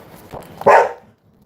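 A pet dog barks indoors, a couple of short soft yips followed by one louder, sharper bark, then quiet.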